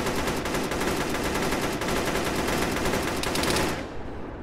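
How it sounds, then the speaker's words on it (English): Continuous automatic gunfire in a military video game, dense rapid bursts at fairly close range that hold loud for nearly four seconds before cutting off abruptly. "Taking fire somewhere."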